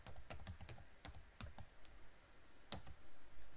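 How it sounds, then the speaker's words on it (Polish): Someone types on a computer keyboard, tapping out a short word in a few separate, quiet clicks spaced unevenly, with a louder keystroke near the end, in a quiet room. "musimy tutaj w to pole wpisać Wielkanoc"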